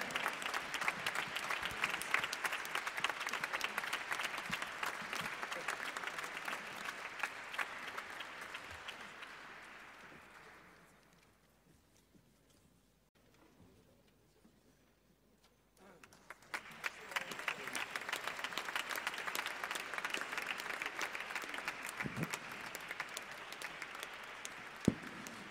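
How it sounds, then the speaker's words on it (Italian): Audience members at a Christmas concert with an orchestra applaud the conductor in a long, sustained ovation that swells, fades nearly to silence midway, then surges back just as strongly, with scattered individual claps audible. "Applauso al maestro"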